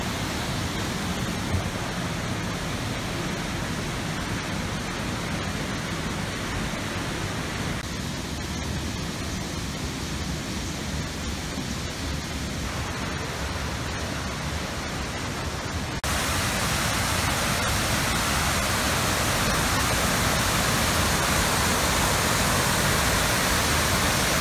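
A powerful waterfall in Kyushu, Japan, roars as a broad, steady rush of falling water, close and loud throughout and swelling louder partway through.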